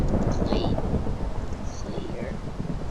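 Deep rolling thunder from a video game storm, a loud continuous rumble with crackling texture running through the whole stretch, with faint speech under it.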